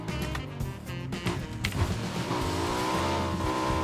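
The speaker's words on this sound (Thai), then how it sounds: "กูว่ากูได้ยินเสียงรถ" A car engine in PUBG hums and revs steadily, with a rising tone toward the end, continuous and fairly loud with no talking.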